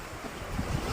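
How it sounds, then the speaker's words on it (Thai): Seaside waves and cool wind on a Thai coast, a rough steady wash of surf mixed with wind buffeting the microphone, loud and close, lasting under a second with no voices. "ลมพัดเย็นดี อยู่ริมทะเล"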